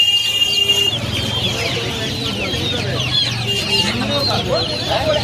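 Chickens and quail at the Uluberia poultry market, a dense bed of clucking and chirping from many birds, steady and close, with a busy market murmur beneath.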